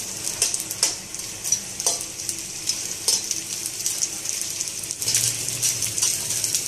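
Pieces of gond (edible gum) fry and puff in a hot pan, giving a bright, continuous sizzle with occasional stirring scrapes and small knocks of a spoon nearby.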